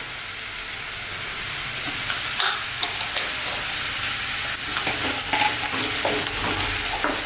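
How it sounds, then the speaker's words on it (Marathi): Sliced onions frying in a pan with turmeric stirred in while cooking a mushroom paneer corn gravy, a steady close sizzle with scraping stir sounds and no talking. "कांदा छान भाजत आला आहे आपला ह्याच्यामध्ये आपण अगदी नॉर्मल हळद टाकून घेऊ"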